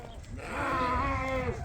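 A Suffolk ram on a sheep farm gives a sustained, loud bleat lasting most of the moment, close to the listener, with a low wavering tone and light background noise.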